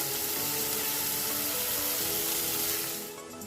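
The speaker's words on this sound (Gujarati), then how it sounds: "હવે બટાકાને આપણે થોડીક વાર ચડવા દઈશું." Potatoes cook in a pan for batata poha, giving a steady, close hiss of sizzling oil that holds evenly before trailing off at the end.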